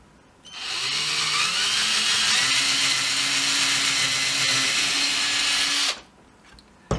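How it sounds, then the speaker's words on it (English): A power drill bores through a wooden board, a steady high whine running for about five seconds close up before cutting off, with a faint clatter afterward. "So then I just drill a hole."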